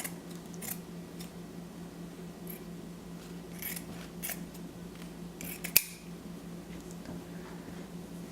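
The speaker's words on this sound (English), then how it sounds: "take a piece of felt and we're gonna cut out a square that's about 3 inches by 3 inches" Scissors snip through a square of felt in several soft, close cuts spaced irregularly over a steady low hum in the room.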